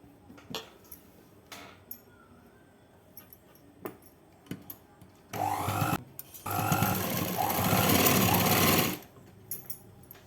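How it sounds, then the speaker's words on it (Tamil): A sewing machine stitching the hem of a night dress, running in two loud steady bursts of rapid mechanical whirring, the second longer, separated by quiet pauses with small clicks and handling sounds. "கீழே பாதத்துக்கு வச்சு ஒரு தையல் போட்டுக்கலாம்."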